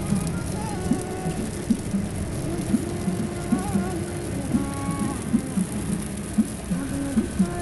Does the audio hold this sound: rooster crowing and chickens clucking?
no